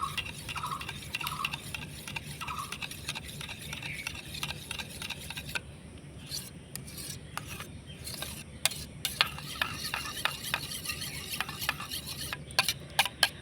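Yogurt being stirred in a bowl, a quick repetitive ticking of a spoon tapping and scraping the bowl, faint and close, with the rhythm becoming more scattered and clicky toward the end.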